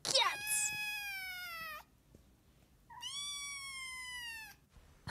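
A young cat, a kitten only weeks old, gives two long, drawn-out meows, loud and close, separated by a brief quiet gap, with faint background noise.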